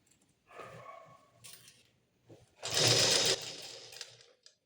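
Sewing machine stitching a blouse, heard in short bursts with a louder, denser run of stitching near the end, close and fairly loud.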